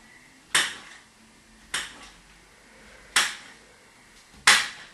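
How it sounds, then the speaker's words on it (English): A sharp knife slices through mushrooms onto a cutting board in four separate, evenly spaced chops, each a crisp close knock with a short tail, no talking. "So you get your mushroom using a sharp knife."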